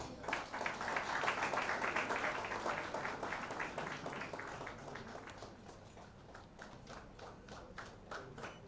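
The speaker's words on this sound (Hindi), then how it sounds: "आप सभी की तालियां होनी चाहिए।" Audience applause at a large annual public event in India, a dense wash of many hands clapping loudly at first, then thinning and fading over several seconds into scattered claps with murmuring in the background.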